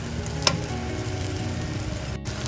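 Ginger garlic paste sizzling in a pan over a medium-high flame, a steady close frying hiss with faint spatter, no voices.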